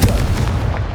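A single booming fire-spell blast from the Confringo spell in Hogwarts Legacy, a low heavy burst right at the start that rumbles and fades over about a second.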